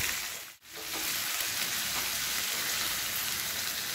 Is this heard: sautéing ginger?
yes